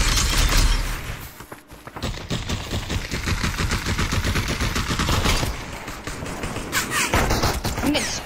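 Sustained automatic gunfire spraying toward the player in Population: One, with rapid dense shots that continue almost without a break, loud and close, plus a few brief pauses.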